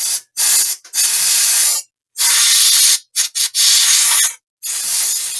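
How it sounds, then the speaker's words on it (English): Electrical-safe cleaner sprayed into the fan of an HP Envy x360 laptop in several loud, close hissing bursts of about a second each, separated by brief silences, with no talk. "This is electrical safe cleaner, so we're good to go on that."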